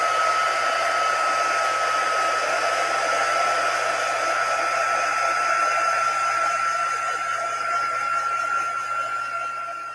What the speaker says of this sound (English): just blow it with some heat quickly and hopefully it doesn't go flying